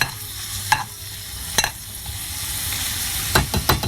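Onions sautéing in a pan for Chettinad chicken gravy hiss softly and steadily, with a few sharp bursts of stirring scrapes near the start and at the end.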